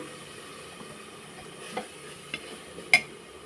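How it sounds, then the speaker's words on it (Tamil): Coriander and mint leaves are sautéed in a pan of masala for mutton biryani, making a soft, faint sizzle with occasional sharp clinks of a spoon against the pan. "கொத்தமல்லி புதினா இலை போட்டுக்கிறேன் இதை ஒரு ஒரு நிமிஷம் வதக்கிக்கலாம்"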